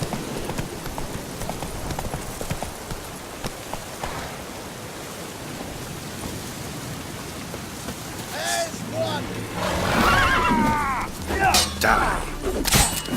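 Horse hooves clip-clop at a steady gallop through rain while riding in The Witcher 3, with a brief whinny-like tonal call near the end over the rising hoofbeats.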